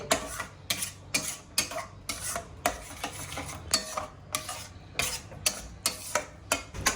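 A spoon stirs dum aloo masala curry with yogurt in a pan, making rhythmic scraping strokes roughly twice a second, close and clear, with no talking.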